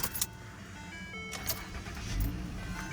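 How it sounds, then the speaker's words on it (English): A Lincoln MKZ engine cranks and catches, settling into a steady idle with some clicking and rattling from inside the car. "We'll start the car up here with that brand new computer"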